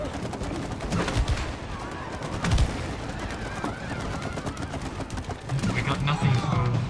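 Rapid gunfire in the video game It Takes Two rattles in dense bursts with booming hits, loud and continuous, while people talk over it.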